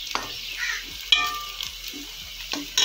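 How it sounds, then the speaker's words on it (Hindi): Garlic ginger paste fries and sizzles in a pan with steady crackle, interrupted by a few sharp scrapes and stirs of a spoon, close and with no talking. "लहसुन अदरक का पेस्ट है इसमें। इसको बस थोड़ा सा हमने भून लेना।"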